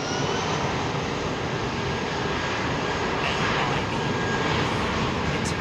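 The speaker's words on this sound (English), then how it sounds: "Mycroft Holmes loving the different engine sounds." Jet aircraft engines at Heathrow Airport on a stormy day make a loud, steady broadband roar that holds throughout.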